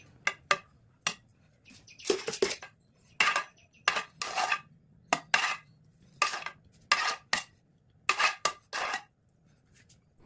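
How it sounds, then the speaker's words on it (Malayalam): A spoon spreads cooked rice over beef biryani masala in a pot, giving a run of sharp metallic scrapes and clinks in irregular bursts, close and fairly clear against a quiet kitchen. "ഇനി വെന്ത റൈസ് മസാലയുടെ മുകളിലേക്ക് ഇട്ടിട്ട് നല്ലതുപോലെ സ്പൂൺ വെച്ചൊന്ന് നിരത്തി എടുക്കണം"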